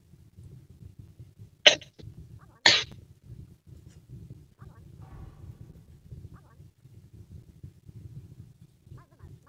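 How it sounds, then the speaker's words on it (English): Two sharp, short coughs from a person during a Bedwars gaming session, clearly above a low background murmur. "I'm coughing like crazy."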